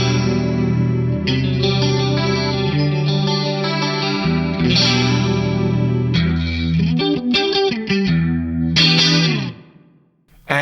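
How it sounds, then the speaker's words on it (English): Electric guitar through a tri-chorus effect on a Fractal Axe-Fx III, playing sustained shimmering chords and arpeggiated notes with a wide, swirling modulated tone, loud and continuous before cutting off near the end. "I have the kind of tri-chorus settings already dialed in right here."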